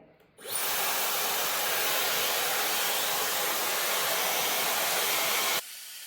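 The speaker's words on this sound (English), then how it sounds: "So I'm gonna blow dry and I'll probably pause you" A hair dryer blow drying curly hair, switching on with a sudden steady roar that holds evenly for about five seconds before cutting off.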